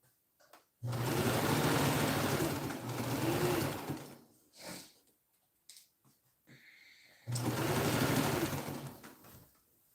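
A sewing machine runs in two long stitching bursts, a loud, close, steady motor whir with a rapid needle rhythm, separated by a stretch of handling clicks and small knocks.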